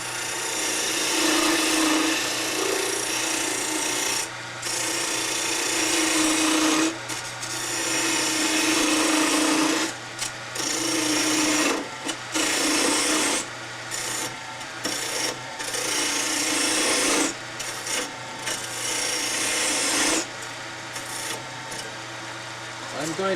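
A flat scraper cuts wood spinning on a lathe, giving a loud rasping, scraping noise that runs in long passes with short breaks between them.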